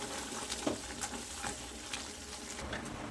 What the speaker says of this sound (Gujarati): હવે મેશરની મદદથી મેશ કરી દઈશું